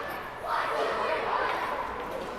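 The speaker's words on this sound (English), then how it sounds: "The Hornets just concluded their cheer" A hockey team, the Hornets, shouts a short group cheer in a huddle on the ice at a state tournament game, a steady massed roar of voices lasting about two seconds, moderately loud with crowd noise behind.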